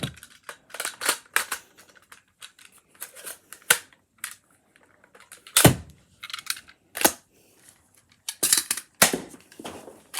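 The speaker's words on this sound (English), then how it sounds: "Now I will reload using the included speed loader." A Dart Zone Pro MK II blaster is reloaded with its included speed loader, giving irregular sharp plastic clicks and clacks, some loud and some faint, with quiet gaps between them and no talking.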